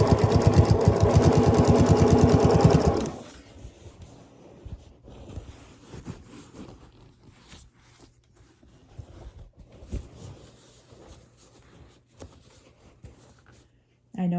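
Sewing machine stitching quilt binding, a fast close rattling run of stitches for about three seconds that stops abruptly, followed by quieter handling and rustling of fabric.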